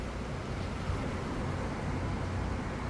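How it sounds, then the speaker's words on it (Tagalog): Sudden heavy rain comes down as a dense, steady broadband hiss and roar, even and unbroken for the whole few seconds, with no voices. "Biglang umulan."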